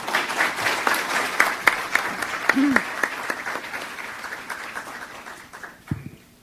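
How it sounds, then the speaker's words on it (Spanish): An audience at a Universidad de Lima literature event breaks into steady, dense applause that holds for several seconds and then tapers off toward the end. "Recibámosla con un aplauso."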